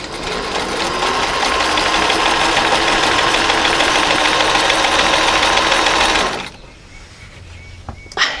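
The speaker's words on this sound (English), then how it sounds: "Now I've got my curtain sewed." A sewing machine stitching a curtain runs steadily at speed with a fast mechanical whir for several seconds, then stops abruptly, leaving quiet room noise.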